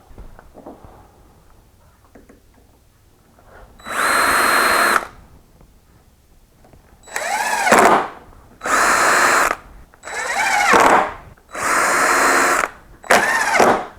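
A power drill drives screws into door hinges while a door is hung in an existing jamb: six loud, close whirring bursts, each about a second long, separated by short quiet gaps.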